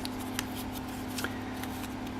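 Scissors snip around the outline of a paper mold for a hex nut, a few faint, irregular clicks and rustles close by over a steady low hum.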